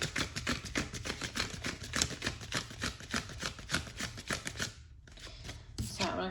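Tarot cards shuffled close up in rapid riffling bursts, a quick rhythmic flutter of papery slaps that pauses briefly near the end, then resumes.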